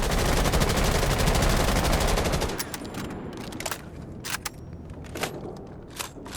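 Rapid full-auto fire from a C8 rifle with an ACOG in Rainbow Six Siege: a dense continuous burst for about two and a half seconds, then shorter separated bursts and single cracks, loud and close.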